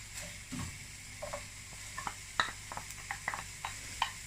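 Sliced carrots going into a pot of chicken sopas, a few light clicks and clatters over a soft bubbling simmer, close by with no talking.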